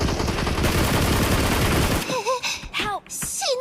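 Loud, dense automatic gunfire from the battle royale game BGMI hammers for about two seconds. Fainter shots and chirping electronic game tones follow.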